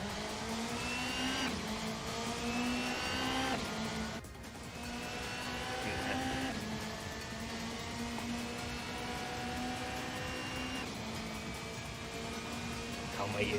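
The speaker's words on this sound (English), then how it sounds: "Oh, I forgot this car is loud." A loud race car engine in Assetto Corsa revs and drones steadily, rising in pitch through the gears with a brief dip between shifts. Continuous and close, it sounds like in-car audio.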